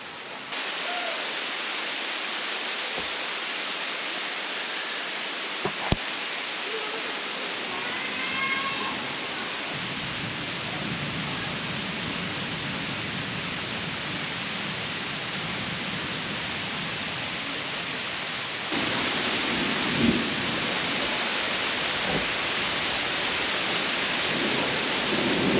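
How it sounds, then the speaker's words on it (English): Steady heavy rain pours down in a thunderstorm in Sedona, a dense even hiss throughout, with a brief sharp crack and faint low rumbles, and the downpour growing louder toward the end. "I think we're gonna get under this thing while the rain's coming down."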